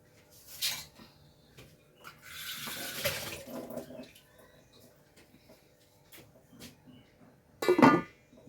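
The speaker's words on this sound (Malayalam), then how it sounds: "ഇനി കുറച്ച് വെള്ളം ഞാൻ ഒഴിച്ചു കൊടുക്കട്ടെ ലേശം വെള്ളം ഒഴിക്കുന്നുണ്ട്" Water splashes and trickles briefly as it is poured into a pan of crab fry, with clinks and knocks of kitchenware around it and a sharp clatter near the end.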